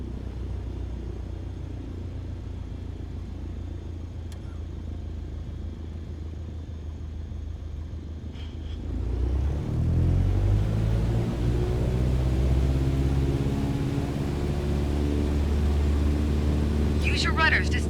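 A light aircraft's engine powers up to full throttle for takeoff in Microsoft Flight Simulator, a steady droning rumble that swells louder partway through and holds as the plane accelerates down the runway.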